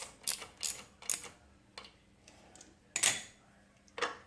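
A hand ratchet clicks in short bursts while tightening bolts on a Troybilt pressure washer pump, quiet and close, several quick ratcheting strokes separated by brief pauses.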